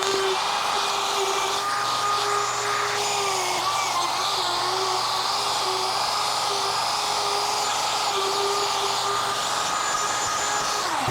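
Wood router planing a cutting board, a loud, steady high-pitched motor whine with cutting noise, constant and close throughout.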